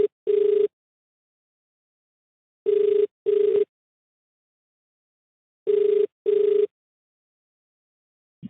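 An outgoing phone call rings on the line: three double-pulse ringback tones separated by silent gaps, clear and evenly spaced.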